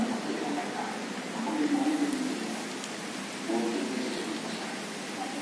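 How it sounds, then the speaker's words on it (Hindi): Heavy monsoon rain with strong wind during the rainy season in a village, a steady broadband wash of falling water and gusts that swells briefly in places, with faint voices in the background. "बहुत तेज़ बारिश हो रही है"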